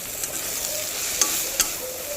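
Onion, chili, tomato and nigella seeds frying in hot oil, a steady bright sizzle with a few sharp stirring clinks and pops, close and continuous without speech.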